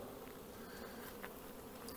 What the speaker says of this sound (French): les abeilles sont faux folles. Ça sort comme des folles.